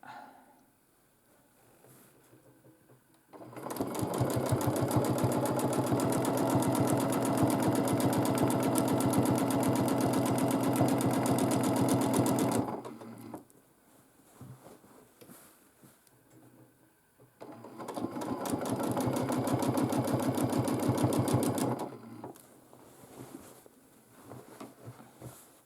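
A domestic sewing machine quilting a large quilt, running in two long, even, rapid stitching bursts of several seconds each with quiet pauses between, close by.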